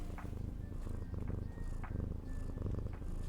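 A cuddly pet cat purrs close up in a steady, rumbling loop, with soft thumps and rubbing bursts as it paws and brushes against the microphone; no talking.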